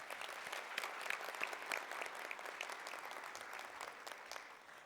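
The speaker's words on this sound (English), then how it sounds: "Please give Congresswoman Castor and Mayor Castor another round of applause." An audience at a Tampa Black History celebration gives a sustained round of applause for a congresswoman and the mayor, a steady wash of clapping from many hands that holds evenly for several seconds without speech.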